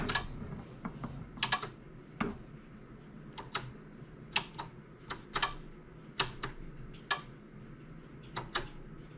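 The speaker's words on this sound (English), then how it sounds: "Yeah, there's something clicking in there." Sharp, irregular clicks come from inside a plugged-in Tandy computer, a dozen or so isolated ticks spaced unevenly over quiet low hum, close and fairly faint.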